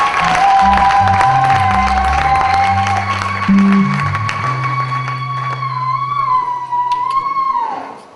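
A church congregation applauds, the steady wash of clapping filling the room beneath sustained keyboard or organ tones that carry on throughout.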